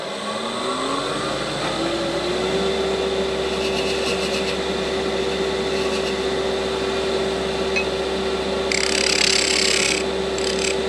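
A detail spindle gouge cutting a wooden Christmas sphere ornament spinning on a lathe, with the lathe motor's steady hum rising to speed, a rough scraping cut running underneath and a brighter hissing burst near the end.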